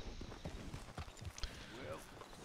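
Horses being ridden up and hitched in Red Dead Redemption 2: soft, close hoof clops in an uneven rhythm, heard alongside voices and other game sounds.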